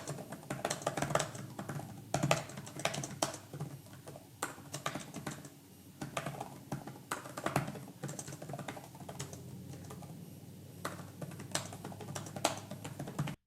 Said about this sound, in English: let's take a listen to some keyboard noise